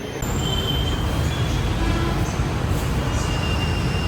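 A metro train rumbles steadily and loudly nearby at Khairatabad station, with faint high wheel squeals drifting over the constant roar.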